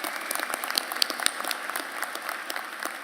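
Sustained applause from a commencement ceremony audience for the keynote speaker, a steady dense wash of clapping with scattered sharper claps standing out, continuing unbroken throughout.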